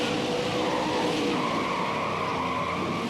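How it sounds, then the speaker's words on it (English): A multi-car wreck in the NASCAR Heat 5 racing game: a continuous loud blend of stock car engines and skidding, squealing tires, with no talk. "Actually, that was a 3-car wreck."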